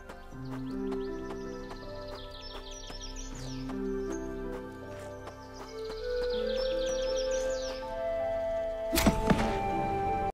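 In a solo RPG, city guards are attacked against calm game music and chirping birds, with a sharp, loud impact near the end that breaks the gentle background.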